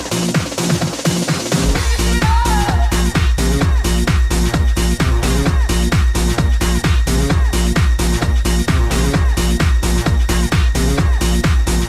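Hard house dance track played back slowed down, a driving four-on-the-floor kick with pounding bass and layered synths, loud and continuous, with a short sparse intro before the full beat drops in.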